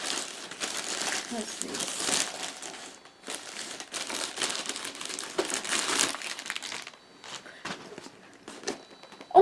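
Plastic packaging around an FFP2 NR face mask crinkles and rustles loudly up close as it is cut and pulled open, in repeated bursts, while a person speaks briefly.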